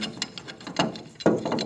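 A pipe wrench turns a threaded fitting on a fuel transfer pump, producing a short run of close, dry metallic clicks and scrapes with a heavier grinding crunch near the end.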